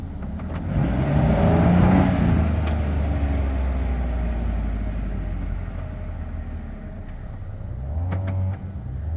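A Jeep JK's engine revs and labors while rock crawling over dirt mounds, a steady low drone with rising throttle swells, loud and close, with no talk.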